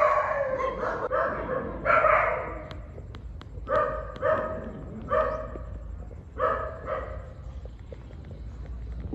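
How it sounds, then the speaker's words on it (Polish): Several dogs bark in bursts, near and fairly loud, with short yips and pauses between clustered volleys of woofs. "Trzeba zabrać, bo tam 5-6 psów jest."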